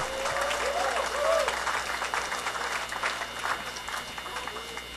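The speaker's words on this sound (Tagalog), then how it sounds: "Oh, palakpak naman kayo." An audience claps in steady applause at a morning gathering, with a voice speaking over the clapping at the start.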